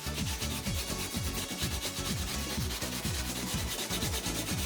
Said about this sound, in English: And then we're gonna go down to a much finer sandpaper after 80 grit.